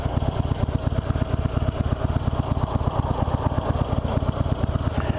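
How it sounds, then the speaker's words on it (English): A 2016 Harley-Davidson Roadster motorcycle engine runs steadily at idle, its low, pulsing thump repeating evenly with a mechanical clatter on top, close and continuous with no talking. "The engine's got a really mechanical sound to it, almost like a Ducati."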